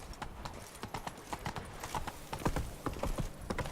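Roach, Geralt's horse in The Witcher 3, galloping with a quick, steady rhythm of hoof clip-clops, close and fairly loud throughout.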